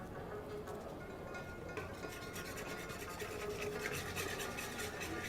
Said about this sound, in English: really make sure that once you're adding the sugar, you're really whisking it properly